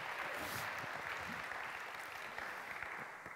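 Audience applause at a German keynote event, a steady dense wash of clapping lasting a few seconds and slowly tapering, with no voices over it.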